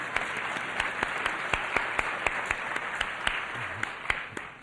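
An audience applauds at a Black Panther Liberation School lecture: a steady wash of many hands clapping, with sharper individual claps popping out at intervals, moderately loud and continuous throughout.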